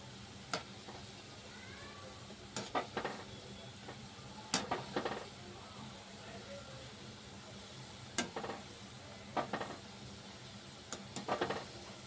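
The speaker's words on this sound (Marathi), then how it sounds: "अजून थोडे आपण तळून घेऊया" Gulab jamun frying gently in oil over low heat, a soft steady sizzle with scattered pops and crackles bursting out at irregular moments.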